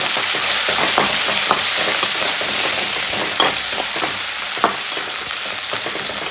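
Curry leaves frying in hot oil with sardine pickle masala, giving a loud, continuous close-up sizzle and crackle with a few sharper pops, and no talking.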